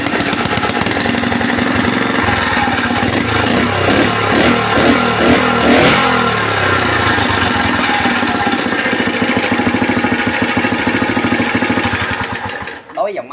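A used Honda 3.5 hp water pump engine runs loudly and close, a steady rapid knocking drone that holds for most of the clip, with someone talking over it, before cutting off near the end.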